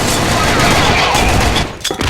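Rapid gunfire crackles loudly and almost continuously in a multiplayer shooter video game, a dense burst of shots that thins into a few separate cracks at the end.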